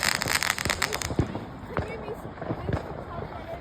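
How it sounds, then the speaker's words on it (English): Bonfire night fireworks go off outdoors, a rapid crackling burst of firecrackers followed by several sharp separate bangs and pops, with people talking over them. "Yeah, there's another rocket going up."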